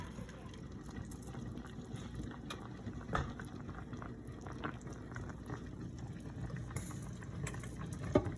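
A pot of cabbage rolls boiling on the stove, with a soft, continuous bubbling and gentle liquid patter at a low, steady level and an occasional louder pop or knock.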